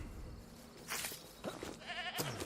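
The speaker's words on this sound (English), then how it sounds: "I'm hearing a goat." A few short goat bleats in a first-person shooter video game countryside, somewhat distant and fairly faint, over a quiet ambient background.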